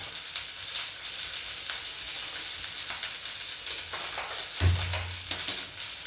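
A spoon stirs curry frying in a pan, producing soft sizzling with occasional scraping strokes and a brief louder clink near the end, fairly quiet and close, with no voices.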